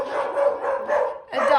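A pet dog barks and yelps excitedly at a passing dog, with repeated bursts close to the microphone over about a second and a half, a short gap, then more barking.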